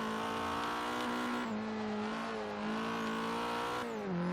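Mazda Speed3 engine in Forza Horizon 3 revving steadily with a strong, continuous tone that dips and climbs with shifts, loud and alone without talk.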